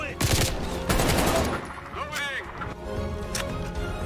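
Rapid gunfire from the video game Call of Duty Black Ops Cold War, with loud bursts of shots through the first half, then continuing game action and effects under the clamour.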